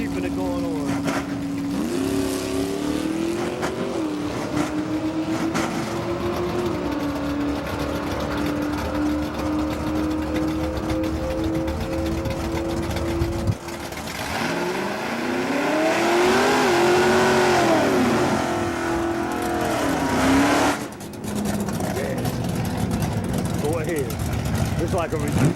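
A 1974 Chevy Nova with a 406 engine revs steadily and loudly at a car gathering, its pitch climbing and holding, then dropping out briefly before surging again near the end.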